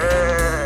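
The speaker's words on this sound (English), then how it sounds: "this fluffy animal is called a ram" A ram, a male sheep with big horns, letting out one short, loud, wavering bleat up close, alone with no talk.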